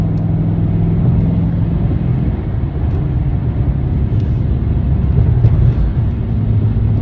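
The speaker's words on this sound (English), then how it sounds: "I need to get past this truck swerving all over the road." A car driving on the road and passing a truck that swerves across the lanes, with a loud, steady low rumble of engine and road noise throughout and no voices.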